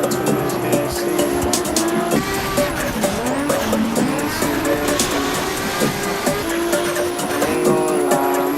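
Drifting car in the Assetto Corsa racing game at Brooklyn Park: a continuous loud engine roar rising and falling with revs, layered with sustained tire squeal and skidding throughout.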